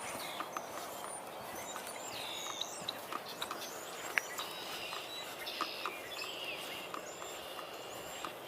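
Outdoor marsh scene with red-winged blackbirds and starlings calling, scattered chirps, whistles and trills from several birds at varying distances, faint and intermittent over a soft background hush.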